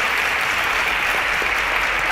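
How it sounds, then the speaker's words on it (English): An audience claps during a quiz show results announcement, a dense, even wash of applause without a break. "A round of applause."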